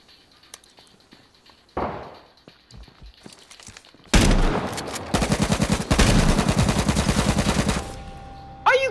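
AK rifle fire in the battle royale game H1Z1 starts with a few scattered faint shots, then a loud nearby shot and a long rapid burst of automatic fire that cuts off near the end.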